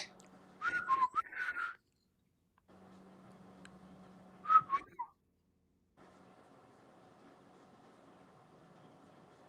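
A bird whistles a short bright trill, pauses, then gives a second brief whistled burst, over a steady low hum.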